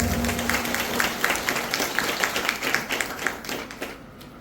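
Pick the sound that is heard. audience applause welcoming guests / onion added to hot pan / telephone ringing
audience applause welcoming guests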